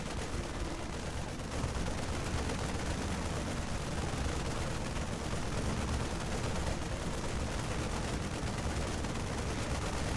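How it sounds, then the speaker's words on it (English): Marines open fire on a Zerg natural hatchery in StarCraft II, a dense, continuous rattle of rapid gunfire that stays steady and loud for the whole stretch with no pauses. "The natural hatchery is under fire, of course."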